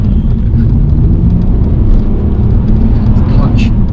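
A BMW 330ci Clubsport revs and accelerates on an empty road, with a steady, loud engine drone and road rumble throughout, heard from inside the car.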